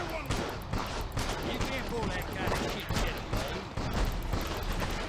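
Rapid bursts of gunfire from the Western-themed video game Gun, crackling continuously through the clip beneath a dense mix of game sound effects and a talking voice.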